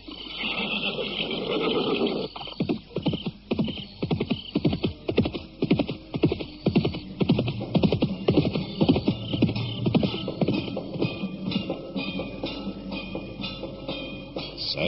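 Radio drama sound effect of a white horse galloping at night: a rapid, rhythmic run of hoofbeats that starts after a brief lead-in and continues steadily for over ten seconds, close and prominent.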